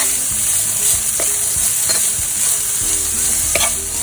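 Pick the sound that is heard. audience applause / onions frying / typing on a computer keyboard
onions frying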